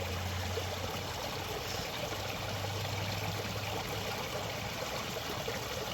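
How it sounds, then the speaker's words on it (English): Water runs steadily over a log through a freshly opened line, a soft, continuous rushing trickle at low level, unbroken and with no voices. "Still have water flowing over the log, so we have good pressure."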